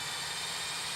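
A jet engine roars up for a loud, steady, dense whoosh of broadband noise that fills the whole moment, close and continuous with no talking over it.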